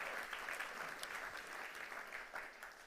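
A church congregation claps steadily and warmly, a dense, sustained wash of many hands filling the room without pause.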